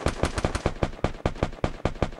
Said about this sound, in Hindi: देखो गोली चली, दो लोगों के बीच में लड़ाई हो रही है